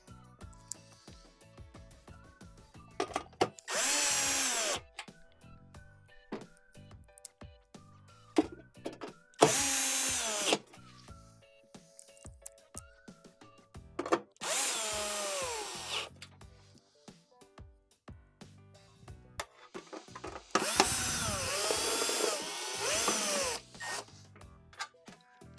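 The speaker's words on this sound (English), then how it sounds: "you're gonna go ahead and reinstall your 6/4-inch screws on the cover." A power drill drives screws into the cover of a Swash by Whirlpool washer dispensing unit, with four separate whirring bursts of a few seconds each and quiet tool handling and clicks between them.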